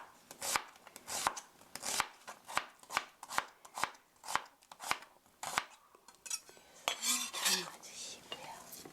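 A knife slices through onions on a cutting board in a steady run of about a dozen crisp, close chops, then slows into a few looser cuts and soft rustling handling sounds.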